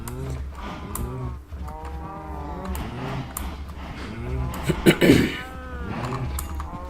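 Several cattle moo repeatedly nearby, long low calls overlapping one another, with a louder bellow partway through.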